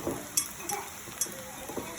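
Frozen vegetables go into a hot pan of browned beef and shrimp fried rice: a soft, quiet sizzle with a few light metal clinks and stirring scrapes scattered through the two seconds.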